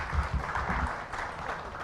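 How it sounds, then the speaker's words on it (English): An audience at a clinical laboratory breakout session applauds, giving a dense, continuous wash of many hands clapping at a moderate, even level through the short stretch. "Bigger round of applause."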